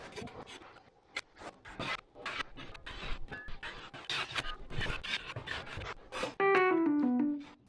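All-purpose drywall compound is spread with a drywall knife during a basement repair. Close, repeated scraping and rubbing strokes come in an uneven rhythm, ending with a short rising tonal squeak.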